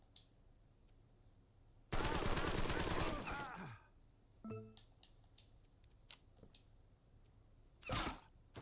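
Gunfire in Empire of Sin, a turn-based gangster strategy game: a loud burst of rapid shots lasting about a second, then a few scattered quieter reports and one more short burst near the end, with faint game background between.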